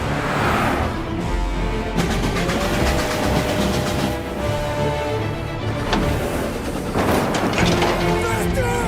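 A train rushes past in the video game Mafia: Definitive Edition, a loud, steady rumble with rattling wheel clatter and a rising whine, heard alongside game engine noise and brief voices.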